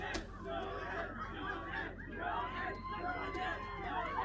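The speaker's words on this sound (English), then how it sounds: "based on the cheering that I'm hearing in the background every 30 seconds" A crowd cheers and murmurs in the background of a broadcast, a steady mid-level hubbub of many voices that never lets up.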